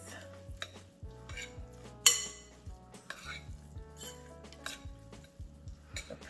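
A spoon stirs peppers and onions, with mayo, around a pan for a corn salad, giving repeated scraping and clinking strokes over a light sizzle, with one louder clatter partway through.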